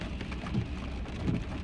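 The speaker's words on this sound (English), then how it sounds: "Can you hear the sound? Yes, it's raining, and it's raining like anything." Heavy rain pours down at Niagara Falls, a dense, steady hiss of drops on surfaces with a low rumbling undertone throughout, fairly close and continuous, with no voices.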